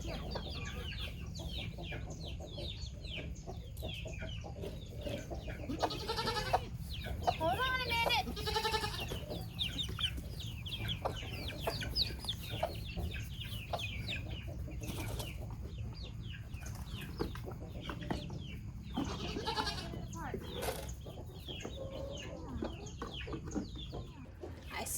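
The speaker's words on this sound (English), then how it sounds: "I threw it over this fence here to the chickens in there, and I got the goats feed" Chickens clucking and goats bleating on a farm, with bursts of calls rising over a constant low rumble of background noise, fairly faint and spread across the stretch, with some indistinct voice.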